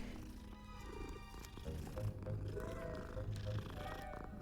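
A cat purrs softly in the video game Hogwarts Legacy, a low rumbling purr under faint background music and game ambience.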